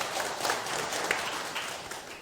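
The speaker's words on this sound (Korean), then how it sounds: "박수 한번 쳐주세요" Soft, even applause from a small audience at a lecture session, a light wash of clapping that tapers slightly toward the end.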